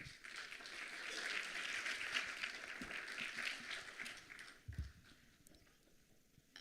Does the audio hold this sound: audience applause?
yes